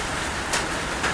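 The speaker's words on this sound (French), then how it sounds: "voyez comme ça tombe, la pluie" Rain falls steadily outdoors in a soft, continuous hiss, with a couple of brief louder spatters standing out over the constant patter.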